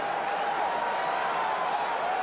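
Ohio State fans cheer among a 101,000-strong crowd at Michigan Stadium before the 1989 Ohio State–Michigan kickoff. A steady, distant, broadband crowd roar holds throughout without pause.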